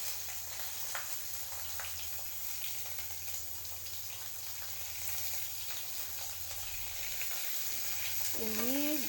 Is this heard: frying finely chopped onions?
yes